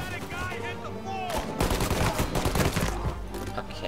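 Shotgun gunfire in the Mafia Definitive Edition video game, a dense run of loud blasts and crackling shots in the second half after quieter game sounds, with a voice briefly audible.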